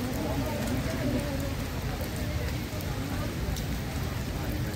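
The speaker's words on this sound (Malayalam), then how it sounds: "മഴയത്ത് നല്ല തിരക്കൊക്കെയാണ് ഇവിടെ." Steady rain falls at Marine Drive in Kochi, a dense, constant hiss of drops spread evenly through the whole stretch, with voices talking faintly in the background.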